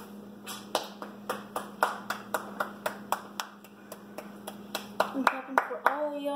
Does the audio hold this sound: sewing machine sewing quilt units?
no